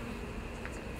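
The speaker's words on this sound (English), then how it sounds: "they're fanning an orientation pheromone, which is happening on these bees on this cage" Honeybees fanning on a cage give a steady, close insect hum that stays even and unbroken throughout.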